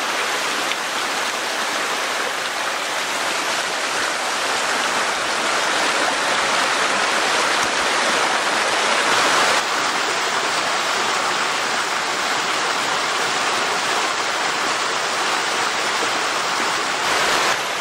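Small waterfalls and a rushing mountain stream on Gold Mine Run, a steady broadband roar of falling water filling the whole stretch, close and loud without pause.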